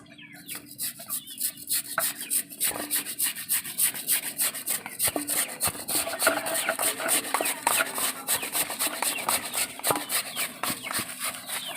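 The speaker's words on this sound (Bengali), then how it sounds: "এবার আমি আলুটাকে কুড়ে নেব।" A potato is scraped against a hand grater in a home kitchen in rhythmic strokes, roughly two each second. The steady rasping repeats close by, and no one speaks.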